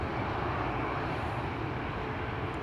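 A Bombardier C-Series 300 airliner at Amsterdam Schiphol Airport gives off a constant, loud broadband jet engine roar with no breaks, steady and close, with no one talking.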